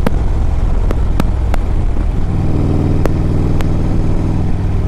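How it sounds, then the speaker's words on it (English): A 2007 Harley-Davidson Road Glide with a Screaming Eagle 113 engine rumbles continuously while riding, a loud low throbbing drone mixed with wind buffeting, punctuated by several sharp clicks or knocks. "This is a very powerful Harley."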